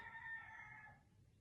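A rooster crows outdoors, one long sustained cock-a-doodle-doo call heard from a short distance that fades out after about a second, with low background rumble underneath.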